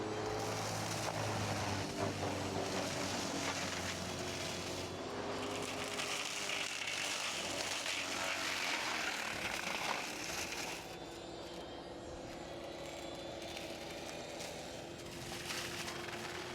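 A Mongo Pro Grade hydraulic mulcher, running on a machine with limited hydraulic flow, swats back and forth through an overgrown farm ditch. It gives a loud, continuous grinding roar that shifts in pitch and eases slightly partway through.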